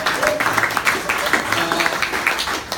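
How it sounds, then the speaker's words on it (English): Audience at a comedy roast claps, a short burst of scattered hand claps mixed with speech and crowd noise at moderate volume. "How about a round of applause for him?"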